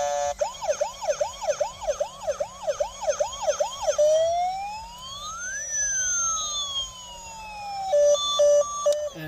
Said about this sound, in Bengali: দেখতে পাচ্ছ প্রথমেই রয়েছে একটি অ্যাম্বুলেন্স, অনেক সুন্দর একটি অ্যাম্বুলেন্স, একদম রিয়েল মনে হচ্ছে কিন্তু। আর একটা মিউজিক